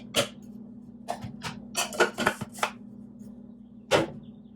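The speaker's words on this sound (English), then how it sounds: "I'm just going to add my 80 grams of grinds" Ground coffee being added to a cold brew container, a series of dry scraping and clattering taps in irregular bursts, including a cluster in the middle and one last knock, over a steady low hum.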